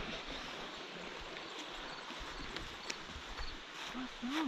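A waterfall beside a Blue Ridge Parkway trail in Virginia gives off a steady, dense rushing roar that fills the scene without a break, with a brief faint voice near the end.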